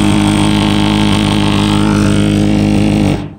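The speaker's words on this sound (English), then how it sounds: "Pre-purge combustion blower." A Lennox Pulse furnace's pre-purge combustion blower runs as a loud, steady, close-up mechanical drone with a constant hum, cutting off abruptly at the end.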